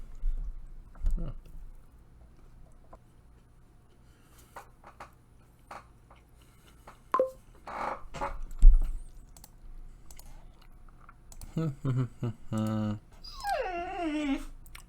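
A dog whimpers and makes small vocal noises amid scattered keyboard clicks, ending in a rising, whining yelp; a person speaks briefly.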